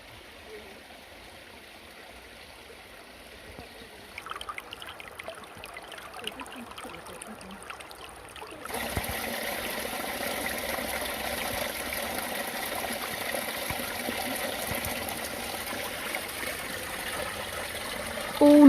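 Spring-fed stream flowing at Great Witcombe Roman Villa in the Cotswolds, a steady trickling wash that grows noticeably louder and fuller partway through and continues alone.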